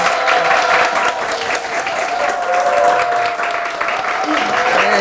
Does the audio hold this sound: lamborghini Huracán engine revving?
no